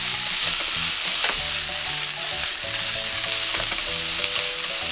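Bean sprouts, napa cabbage and leek tossed in a wok over high heat with their juices, a loud, dense sizzle with stirring scrapes over background music.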